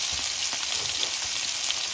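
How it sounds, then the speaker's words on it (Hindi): Onions brown in a frying pan with a continuous, even, hissing sizzle that stays close and loud for the whole stretch, with no voices. "इस तरफ प्याज भी ब्राउन करूंगी"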